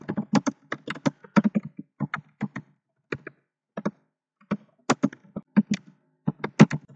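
Keystrokes on a computer keyboard as file content is typed into an Ubuntu Linux terminal, close and clear, coming in irregular quick bursts with short pauses between them and no talking.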